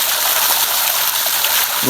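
Hot spring water gushes steadily from an artesian well bore in Telangana, a loud, continuous broadband rush close by that runs the whole time with no pause.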